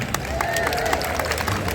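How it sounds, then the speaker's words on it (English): Audience applause for the Sydney Street Choir fills the space as dense, steady clapping and crowd noise, close and loud, with voices mixed in. "round of applause for them and for everyone who's organised it"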